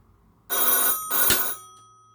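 A 1920s Tefag multi-line telephone rings on an outgoing call: two close, loud bursts of metallic bell ringing with a short gap, fading quickly at the end.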